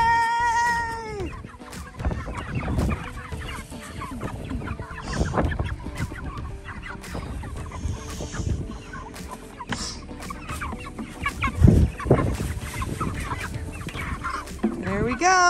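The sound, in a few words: broiler chickens clucking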